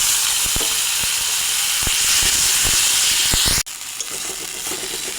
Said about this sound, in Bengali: এবার বেটে রাখা মশলাটা দিয়ে দেব